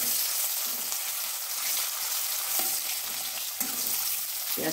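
Chopped onion fries in hot oil for a Bengali tilapia fish dish. A loud, continuous hiss and crackle sounds up close, with a few brief stirring scrapes breaking through.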